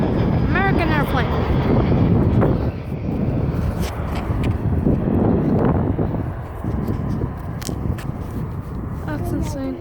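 An American airplane lands at an airport, a steady broadband jet roar mixed with gusty wind noise on the microphone, with people talking over it throughout.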